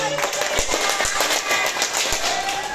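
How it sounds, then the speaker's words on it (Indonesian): A small group clapping hands in an indoor psychiatric nursing therapy session, brisk overlapping claps with a few louder individual slaps, steady and close throughout. "tepuk tangan dong"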